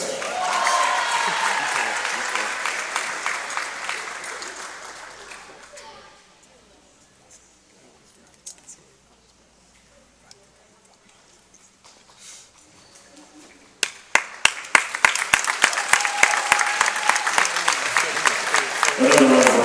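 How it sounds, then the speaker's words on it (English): Crowd at a women's college volleyball awards ceremony breaks into loud applause that fades to near quiet with a few scattered claps, then swells again into dense, sustained clapping. "Another round of applause for our all-tournament team"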